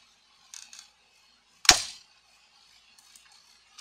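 A single sharp airsoft gun shot cracks close and loud, preceded and followed by faint clicking handling noises in a quiet room.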